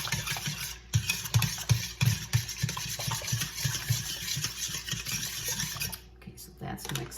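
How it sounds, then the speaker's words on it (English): A Danish dough hook works through sticky English muffin bread dough in a bowl, giving repeated soft thuds and scraping knocks in an uneven rhythm, close by and moderately loud, with a faint steady hum underneath. "I am using a dough hook, Danish dough hook."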